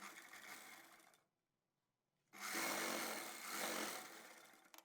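An electric sewing machine stitches a velvet chudidar pajama in two bursts, a steady fast whirring hum that runs, pauses for about a second of silence, then resumes louder and ends with a small clack.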